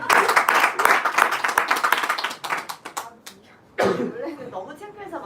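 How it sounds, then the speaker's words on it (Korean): An audience claps at a worship gathering, a burst of dense applause that thins into scattered claps and fades, followed by laughter and someone talking. "박수!"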